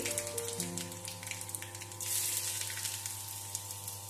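Mustard seeds sizzle and crackle in hot coconut oil on a stove, a steady close frying hiss with scattered pops, over a low constant hum.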